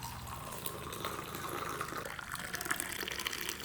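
Freshly mixed tea poured from a height into a glass at a tea stall, a steady splashing pour that stays even and close throughout, with no talking.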